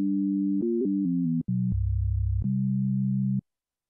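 Pure, clean synth tones from a Full Bucket ModulAir modular synthesizer patch step through a short sequence of held notes, dropping to a low buzzy tone midway before returning to a steady note that cuts off abruptly.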